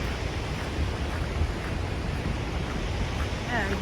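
The Genesee River rushes through the gorge at Letchworth State Park as a steady, broad roar of moving water that fills the whole span evenly, with wind buffeting the microphone and a faint chirp near the end.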